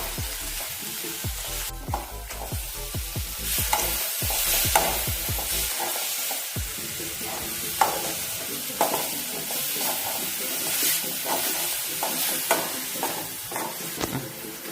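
Brinjal curry with ground paste and tamarind is stirred vigorously in a pan, a continuous loud sizzle broken by repeated scraping and clacking strokes of the spoon throughout.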